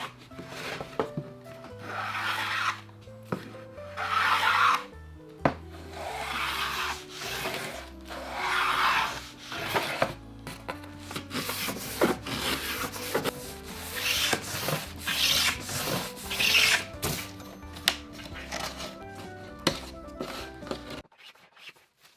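Edges of wooden DIY kitchen cabinet parts are sanded by hand, with uneven rubbing strokes in a steady back-and-forth rhythm, close and fairly quiet, with occasional knocks of wood.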